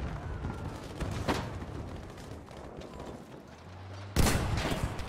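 A panzerfaust shot at a tank in the video game Battlefield V, one sharp blast near the end after a faint shot earlier, over quiet battlefield ambience.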